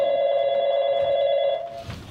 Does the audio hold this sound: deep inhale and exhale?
no